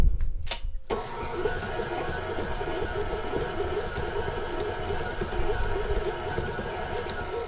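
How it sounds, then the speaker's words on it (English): A stand mixer creams softened butter with sugar, its motor starting after a short pause and then running in a steady close whir with a rattling beater, continuous throughout. "Now we're using the mixer to cream the butter."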